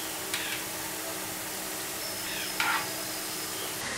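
Onion pakoda frying in oil on a medium flame, a steady broadband sizzle running the whole time with a brief louder crackle near the end, moderately close.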